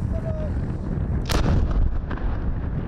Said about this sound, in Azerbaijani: Aşkar edilən minalar xüsusi ərazilərdə toplanılır və sonra partladılır.